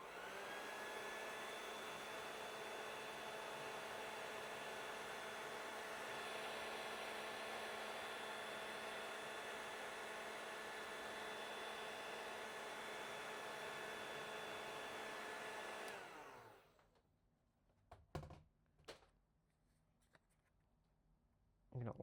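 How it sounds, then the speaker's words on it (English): A hair dryer blows steadily and loudly while drying fresh paint on a custom-painted bluegill fishing lure, then shuts off partway through, leaving a few faint handling knocks. "now I'm going to blow dry it so I don't smear it like I did earlier."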